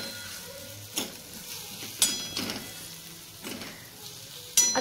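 Grated raw mango sautés in oil with a pinch of salt for a quick mango pickle: a soft, continuous sizzle broken every second or so by scraping spatula strokes.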